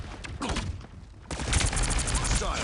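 Rocket fire and explosions boom through a Mass Effect 3 battle as a dense, thumping burst of blasts that grows louder partway through, with a voice heard briefly.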